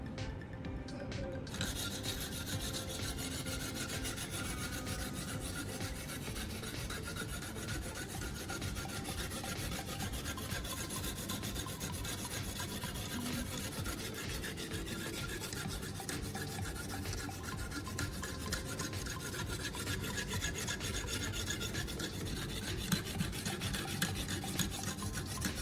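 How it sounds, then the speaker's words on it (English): A knife blade is sharpened on coarse sandpaper, a close, steady dry rasping and rubbing that continues without pause for the whole stretch, with no talking. "Similarly, I continued sharpening with coarse sandpaper."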